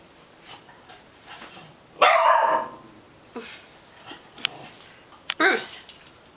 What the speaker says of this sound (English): whatever he's barking at